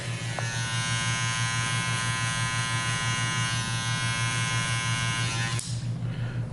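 An electric hair clipper with a number 1 guard, cutting hair during a fade haircut, gives a steady, loud, close motor buzz that runs unbroken and then eases slightly near the end.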